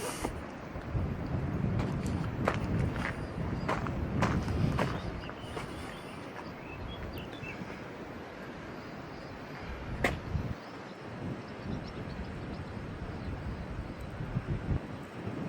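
Gusty wind buffets a camera microphone outdoors at an old country hall, rumbling low and uneven in bursts. It is strongest early, then settles to a steadier rush, with a few sharp knocks along the way.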